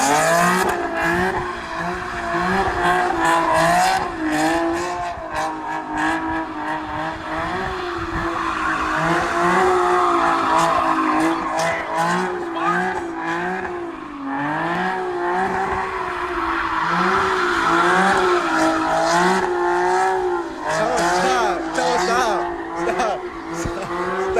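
A turbocharged import car does burnouts and donuts at a subscriber competition. Its engine rises and falls in loud, wavering revs over steady tire squeal, close and continuous throughout.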